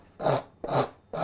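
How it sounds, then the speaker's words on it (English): A coarse rasp files wood in three rough, evenly spaced strokes, each a close, loud grating scrape with brief quiet gaps between them. "the alternative is to take a rasp and take it down fairly quickly with a coarse rasp."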